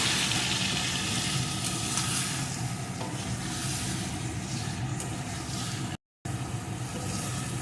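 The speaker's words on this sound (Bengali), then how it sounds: "এখন সোয়াবিনটা সুন্দর করে কষিয়ে নেব" Soybean chunks sizzling and being stirred in a hot pan, a steady dense frying hiss that runs throughout with scraping movement, briefly cut by a short gap.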